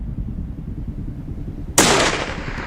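A single sharp rifle shot cracks loud and close during a black bear hunt, breaking a low rumbling quiet and followed by a brief decaying echo.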